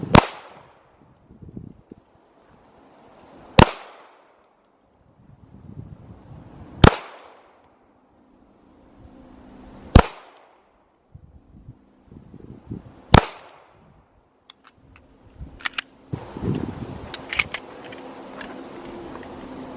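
Five slow, evenly spaced handgun shots from a Smith & Wesson Shield with a 4-inch barrel at a 7-yard range line, each a sharp loud crack with a short decay, followed by faint clatter and rustling.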